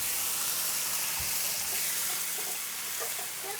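A little water from a coffee cup hits a very hot pan after bulgogi beef has cooked and the fat has been drained, setting off a loud, steady steaming hiss that stays broad and constant for several seconds.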